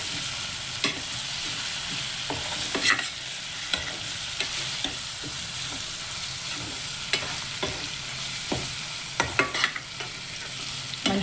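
Coarsely pounded fresh ginger-garlic paste fries with browned onions in a pan for an Andhra-style country chicken curry, a continuous close sizzle punctuated by sharp spatula scrapes and clacks, no voices.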